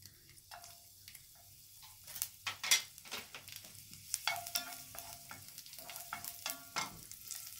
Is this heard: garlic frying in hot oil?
yes